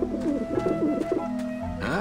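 Pigeons coo on a rooftop in the video game Grim Fandango, a steady run of soft, rolling coos repeating close by over a low background hum.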